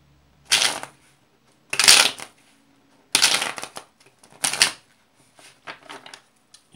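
Tarot cards are riffle-shuffled close up in four sharp bursts of fluttering, snapping card noise, followed by softer taps and shuffles as the deck is squared, with no talking.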